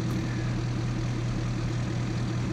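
Pickup truck engine idling in the Farming Simulator 22 video game, a steady low rumble that holds evenly and fairly loud throughout, with no talk over it.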